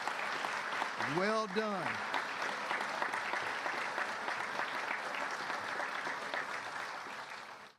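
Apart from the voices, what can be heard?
applause at a police promotions ceremony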